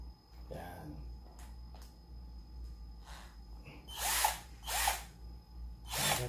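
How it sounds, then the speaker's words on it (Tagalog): A new cordless drill makes several short bursts of high whirring, each spinning up and stopping, fairly close. Quiet speech is heard in the pauses between bursts. "So ito po ang aking pinakabagong tools ngayon, ang cordless drill."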